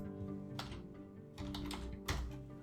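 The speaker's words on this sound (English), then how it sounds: "So I'm just going to type in my name, Tom." Quiet, irregular clicks of typing on a computer keyboard: a few short bursts of keystrokes with brief gaps, fairly close and soft.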